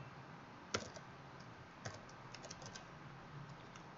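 Faint keyboard clicks come from code being typed on a computer keyboard, a few sharp isolated keystrokes scattered over quiet room hiss.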